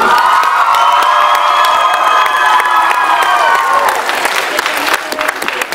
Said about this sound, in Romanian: Aplaudăm pentru capitanul echipei terminal!